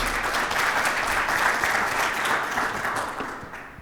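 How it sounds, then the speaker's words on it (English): Conference audience applauding a speaker at a network operators' meeting, a broad sustained patter of many hands that holds steady and then slowly tapers toward the end, with no talk over it. "Please, a round of applause for our wonderful speaker."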